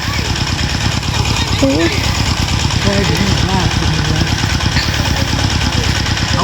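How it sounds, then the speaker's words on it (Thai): A water pump engine near a fishing spot runs in a steady, throbbing idle throughout, loud and close, with a voice talking over it. "ที่มีเสียงเครื่องสูบน้ำรบกวน"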